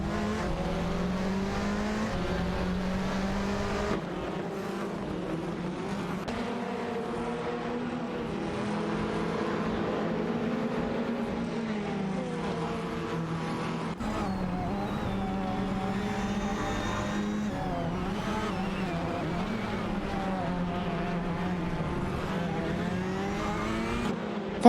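Touring-style race cars, among them an Alfa Romeo Giulietta TCR and a Ford Focus RS, roar through a simulated AI race: a dense, continuous blend of engines revving and shifting in pitch as cars jostle, steady and loud throughout.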